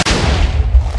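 A TNT cannon shot explodes in a block-building video game, giving one loud, close boom with a deep rumbling tail and no talk.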